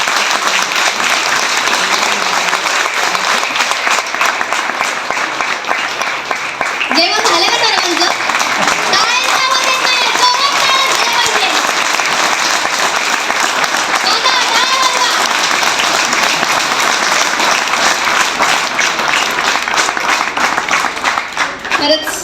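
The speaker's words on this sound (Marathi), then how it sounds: "जोरदार टाळ्या झाल्या पाहिजे" A large audience at a Dhamma camp at Bodhivan Buddha Vihara in Wadegaon claps loudly and steadily for over twenty seconds, with voices mixed into the applause.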